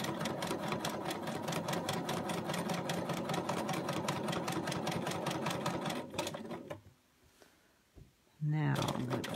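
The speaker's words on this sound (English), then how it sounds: "If I want to just free motion quilt, and I'm always keeping my hands in a little square around that hopping foot." A sewing machine free-motion quilts on fabric with a hopping foot, tracing a coloring-book design. Its rapid, regular needle pulses run close and steady, then slow and stop near the end before briefly restarting, with a short voice near the close.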